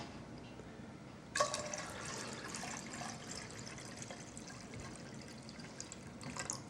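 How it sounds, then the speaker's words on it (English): Water poured into a pot of sweet potatoes, a steady splashing, trickling flow that starts abruptly and runs on, fairly close and moderately loud. "So we're going to put some more water in there."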